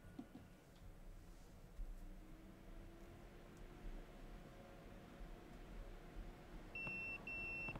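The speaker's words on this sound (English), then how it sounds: "That's my beeper." In Yakuza 0, a pager goes off near the end as a few short, high electronic beeps in quick succession, following a stretch of quiet room tone.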